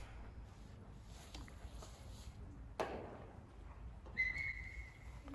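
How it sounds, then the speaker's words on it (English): A referee's whistle sounds at a horse dressage show in a long arena: one faint, thin tone a little past the four-second mark, held briefly over steady outdoor background noise, with a soft thump just before it. "Yep, they blew the whistle."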